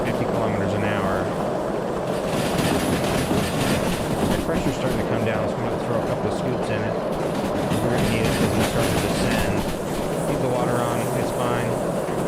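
Steam locomotive running in the Derail Valley train simulator game, a steady continuous rumble of engine and rolling wheels with faint rhythmic chuffing and hissing throughout, loud and close.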